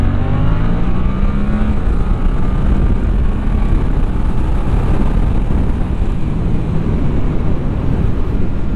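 A Suzuki GSX-8T neo-retro motorcycle accelerates hard with a loud, continuous engine roar, the rising whine climbing through the revs with heavy wind rush throughout.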